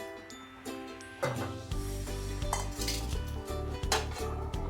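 A metal spoon stirs raw peanuts being dry roasted in a pan, making repeated close scraping clinks and rattles in an irregular rhythm with no talk.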